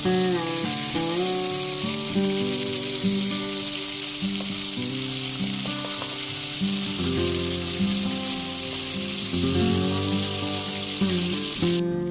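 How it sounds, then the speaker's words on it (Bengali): Rita fish pieces fry in a pan of oil with a continuous hissing sizzle, partly covered by steady music playing over it for the whole stretch. "তারপরে উনানে একটি কড়াই বসিয়ে তাতে বেশ কিছু তেল দিলাম দিয়ে মাছগুলোকে লাল লাল করে ভেজে তুলে নিলাম"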